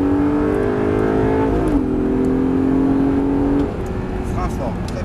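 Close and loud inside an Audi R8, the engine note climbs steadily under hard acceleration on a track, then drops abruptly near the end as the throttle is released.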